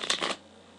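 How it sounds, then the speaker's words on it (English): A deck of playing cards being shuffled in a quick riffle lasting a fraction of a second, close and crisp, followed by quiet. "first start by shuffling the cards."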